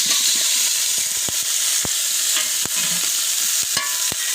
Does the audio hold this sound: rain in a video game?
no